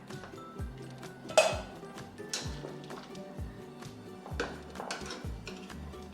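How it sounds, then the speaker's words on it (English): Utensils clink and tap against a pot while cooked carrot and onion are lifted out of simmering beef broth for an Andean beef plantain soup, with a handful of light metallic knocks and scrapes spaced unevenly and close by. "I'm gonna take out the carrot, the onion, and all that stuff and leave the meat in there."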